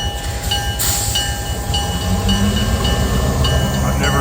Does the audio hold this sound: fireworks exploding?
no